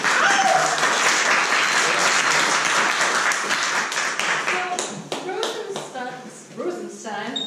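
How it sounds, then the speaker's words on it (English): An audience bursts into loud, dense applause and clapping that fades into scattered claps, with a voice talking over the tail end. "Round of applause."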